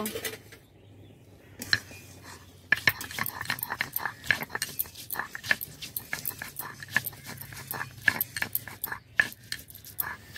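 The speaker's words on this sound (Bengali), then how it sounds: "আদাটা বেটে নেব।" Ginger being ground by hand in a home kitchen while vegetarian khichuri is prepared: a steady run of sharp scraping clicks and knocks, fairly close, starting after a brief quiet moment and repeating rhythmically to the end.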